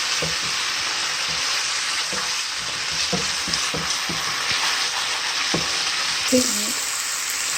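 Pepper frying in a pan with a splash of beef stock, cooking for peppered beef skewers: a steady, close hiss of sizzling oil with light scraping stirs scattered throughout.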